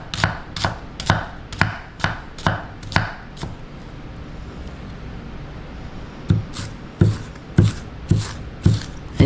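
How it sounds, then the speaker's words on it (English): A knife chopping onions and peppers on a cutting board, a rapid run of about eight sharp even chops, a short pause, then another quick burst of chops, close and crisp. "And you're just going to chop that up."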